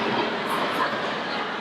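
Amusement park roller coaster train rolling along its track, a steady rumbling clatter heard close, with voices of riders faintly mixed in.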